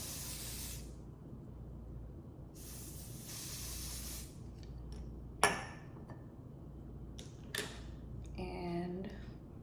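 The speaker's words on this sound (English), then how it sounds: "I'm going to use my even spray. This is the black one." Extreme Firm Hold hairspray from a black can hisses onto a wig in two long bursts, followed by a few small clicks and clinks of handling.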